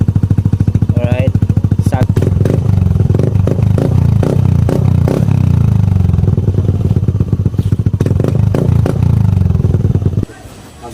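A Yamaha Aerox v2 scooter fitted with an oval muffler and its silencer removed revs loudly up close, with a rough, throbbing exhaust and repeated throttle blips before it cuts off abruptly near the end.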